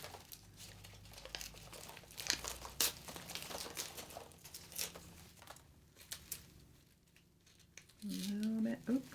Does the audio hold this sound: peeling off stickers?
yes